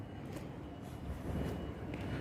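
Steady low rumble of a tram passing nearby at Salford Quays, a continuous rolling drone that swells slightly midway.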